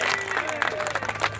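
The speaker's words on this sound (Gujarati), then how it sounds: "તાળીઓના ગડગડાટથી એક વખત વધાવો આપણે એમને" Crowd applause at a Gujarat Gaurav Yatra welcome reception in Vav, Banaskantha, a dense patter of many hands clapping steadily for a short burst, with crowd noise mixed in.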